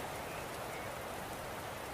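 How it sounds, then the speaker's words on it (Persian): Steady rain falling, a dense even hiss of drops pattering on surfaces, constant and close with no other sounds. "بارون گرفت"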